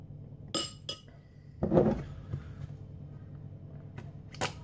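Onions spooned onto Bockwurst hot dogs, with a few sharp clinks of spoon against dish and a brief scraping clatter in the middle, close by and otherwise quiet.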